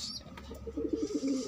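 Pigeons coo close by, with a short burst of soft, throaty rolling coos over faint background noise.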